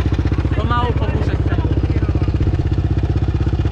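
Yamaha Raptor 700 quad idling close by, a steady low rhythmic engine thrum and clatter running throughout while a person speaks briefly over it.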